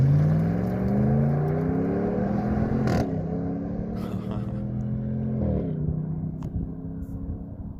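A 2020 Ram Warlock pickup fitted with a Flowmaster Flow FX catback exhaust accelerates hard on an open road, a steady loud engine drone rising in pitch through gear shifts, heard from inside the truck.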